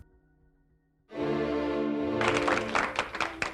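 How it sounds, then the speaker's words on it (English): Applause from an audience bursts in after a quiet moment and builds into dense, sustained clapping that grows brighter and more scattered toward the end. "It never makes me nervous to listen to applause."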